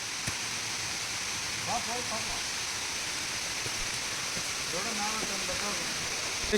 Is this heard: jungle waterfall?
yes